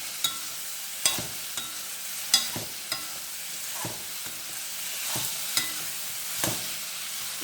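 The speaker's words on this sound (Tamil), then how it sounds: "இந்த மாதிரி நல்லா வறுத்துலாங்க." Small onions fry in oil for chutney while a spoon scrapes the pan in repeated sharp strokes over a soft, steady sizzle, close by and with no talking.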